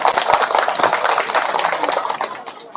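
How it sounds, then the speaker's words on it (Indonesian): An audience at a speech applauds, giving a steady wash of clapping of moderate loudness that carries on throughout, with no clear talk over it. "Tepuk tangan dulu."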